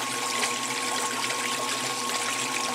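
Water drains from a 1996 Maytag Dependable Care Plus washer on a delicate cycle as it begins to spin, with a steady, close gurgling and pumping wash of water throughout.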